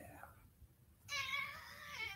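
A pet cat lets out a long, drawn-out, wavering meow, loud and close, after a brief quieter sound, with no talking over it.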